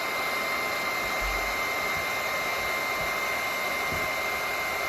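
A heat gun blows steadily at close range on a 2006 Nissan 350Z's carbon fiber louvers, giving a constant, even airy whine that runs the whole time with no talk.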